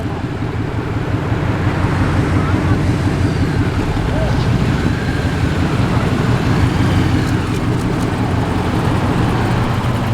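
Holden SS Commodore VX, lowered and immaculate, rolling into an outdoor night car show in Sydney, a steady loud engine rumble amid crowd noise and traffic, with people talking over it throughout.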